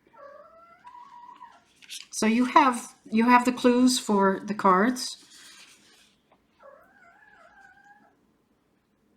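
A pet cat meows several times in drawn-out, wavering calls, once before and once after someone talking, with the cries quieter than her nearby voice.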